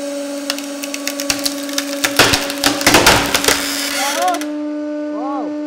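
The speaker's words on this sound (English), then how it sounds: "I think our big press can punch through all of the blanks" A hydraulic press splinters a wooden lumber blank, sharp cracks and loud snapping bursts building into a dense crunch before easing, with a steady hum under it all.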